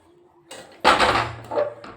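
A pressure cooker is set down on a gas stove: one loud metallic thud and clank, followed by a brief scrape and a softer knock.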